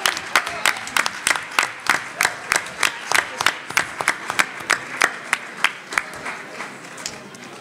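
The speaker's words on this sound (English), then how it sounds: "Give them another round of applause." Audience applause at a school committee meeting, a close, loud burst of clapping with distinct rhythmic claps standing out from the crowd, lasting several seconds and thinning toward the end.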